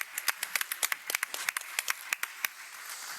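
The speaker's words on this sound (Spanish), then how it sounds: "un aplauso a los panelistas" Scattered applause from a small audience at a conference panel on internet use by productive sectors, with distinct individual claps rather than a dense roar, fairly close and unaccompanied by talk.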